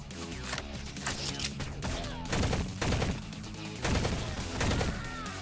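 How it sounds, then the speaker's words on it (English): Burst rifle shots in Shell Shockers come in quick clustered volleys, loud and close, with several rapid bursts repeating over a few seconds and no talk. "this one's a burst rifle"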